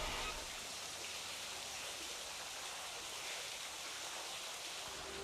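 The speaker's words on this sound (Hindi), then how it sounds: "अंदर से ना बहुत तेज़ पानी बहने की आवाज़ आ रही है" Fast water rushes inside a tunnel, a dense, steady roar of broadband noise that fills the space evenly and continuously, with no talk over it.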